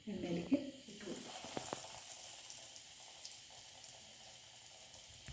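Breaded cutlets dropped into hot oil: a faint, continuous frying hiss follows a brief splashy burst at the start.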